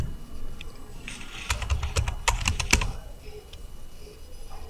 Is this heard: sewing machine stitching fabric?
no